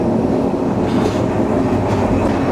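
A continuous close rumble and rattle comes from inside a passenger train running from Panchagarh to Khulna as it jolts along the rails. The drone is steady and loud, with faint clanks and no voices.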